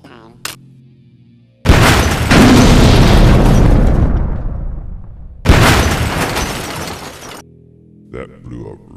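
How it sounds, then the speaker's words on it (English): Two loud, sharp firecracker blasts burst in quick succession, each a crackling roar that decays slowly, with brief talk before and after. "We'll use 3 firecrackers this time."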